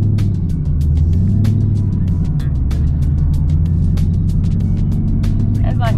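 A Camaro ZL1 or Z28 pulls away with a loud, steady low engine rumble that carries through the whole stretch, heard from inside or close by, with a person talking excitedly over it.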